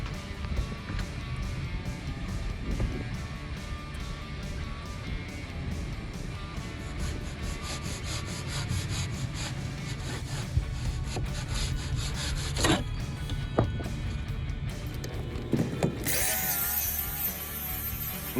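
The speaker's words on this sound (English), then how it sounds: "Now the sanding process starts," Continuous abrasive sanding scrapes steadily over a boat's wooden floor for a long stretch, a dense rasping hiss with a few bumps and shifts in intensity.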